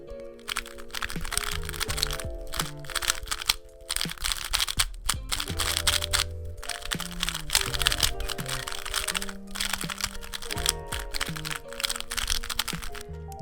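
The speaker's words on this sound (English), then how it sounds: "I also hear a slight clacky sound in the cube." A Valk 3 M speed cube being turned makes rapid, clacky plastic clicks in dense bursts, close and crisp, continuing throughout with brief pauses.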